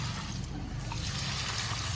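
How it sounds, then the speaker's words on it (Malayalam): A full bucket of water is tipped onto a potted garden plant, giving a steady, close, continuous rushing pour with no break across the short stretch. "ബക്കറ്റ് നിറയെ വെള്ളം നമ്മൾ മറിച്ച് ഇങ്ങനെ"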